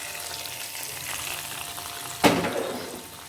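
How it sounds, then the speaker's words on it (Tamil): Curry leaves tempered in hot coconut oil hit a pot of aviyal, a Kerala mixed vegetable curry, setting off a sudden loud sizzle over a steady background hiss that gradually fades. "இதை ஃபுல்லாக தேங்காய் எண்ணெயில் தாளிச்சாச்சு"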